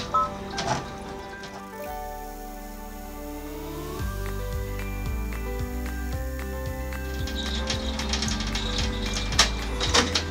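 An embroidery machine running a tack-down stitch on layered felt, a steady mechanical whirring with rapid rhythmic ticking and stepping tones as the needle moves, close and loud without speech.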